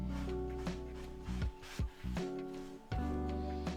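A cloth rubs back and forth across a wooden picture frame, wiping off excess wood stain in several close, steady strokes with short pauses between passes.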